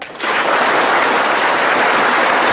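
A classroom of students at a school in Arunachal Pradesh claps their hands together, breaking into loud, dense, sustained applause after a brief quiet start and keeping it up evenly to the end.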